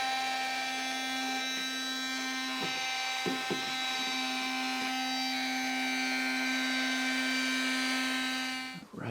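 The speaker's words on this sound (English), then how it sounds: "Right, we'll vacuum up some more of this." A vacuum cleaner motor drones steadily with a constant whining hum, a few light clicks and knocks along the way, and the sound cuts off abruptly at the end.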